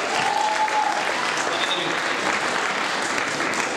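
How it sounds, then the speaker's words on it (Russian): Sustained applause from a concert audience at a birthday celebration show with a cover band, steady dense clapping filling the whole stretch at fairly close range, with no talking over it. "Аплодисменты!"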